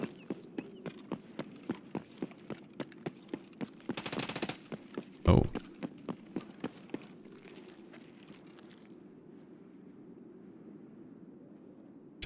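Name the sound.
gunfire in video game Escape from Tarkov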